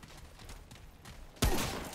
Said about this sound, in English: Someone shot me.